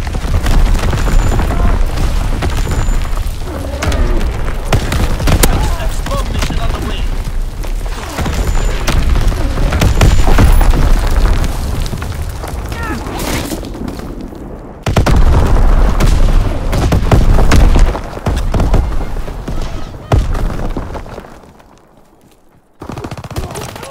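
Mortar rounds from a firing battery burst in Call of Duty: WWII, with repeated heavy booms and rattling gunfire packed densely throughout and a brief lull near the end.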